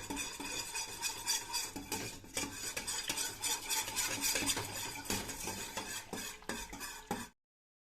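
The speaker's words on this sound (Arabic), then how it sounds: "بنحركهم مع بعض كتير منيح على البارد." A spoon stirs yogurt with salt in a cold pot, brisk continuous scraping and clinking against the metal, close and busy, before stopping abruptly.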